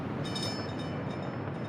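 A train in the Workers & Resources video game rolls along with a steady, low rumbling drone, fairly quiet and continuous, with faint tonal hints near the start.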